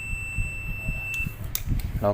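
A thin, high-pitched continuous multimeter continuity beep, testing wires of a rice cooker that won't power on, sounds close by for about a second, then cuts off amid faint clicks and background rustle.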